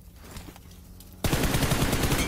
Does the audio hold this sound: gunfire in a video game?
yes